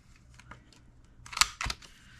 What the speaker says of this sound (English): we're just going to cut the top 2 corners